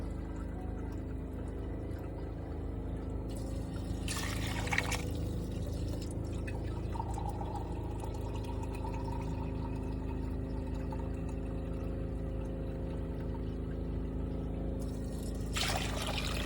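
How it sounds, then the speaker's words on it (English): Water poured into a pot of noodles on a home stove, a steady low trickling and splashing flow that runs on without pause, with brief brighter splashes, no talking. "we're going to have to put more water because we've got to cover them noodles up"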